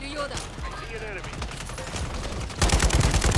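Gunfire in the online shooter Warzone: rapid bursts of automatic fire and shots, quickening into a dense, loud volley near the end, with faint voices underneath.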